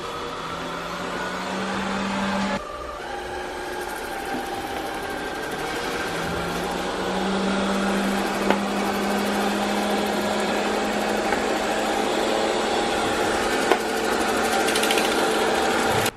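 A Robit 2000Pa robot vacuum cleaner runs steadily with a whirring motor drone that shifts pitch a few times as it is steered, heard up close throughout with no speech over it.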